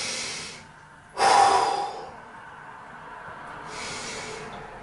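Heavy breathing through discomfort: slow, loud breaths, with a sharp forceful exhale followed by a quieter one a few seconds later, close to the microphone and with no talk.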